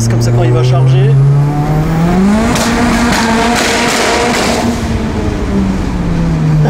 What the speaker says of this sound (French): Et là, tu peux déjà commencer à mettre gaz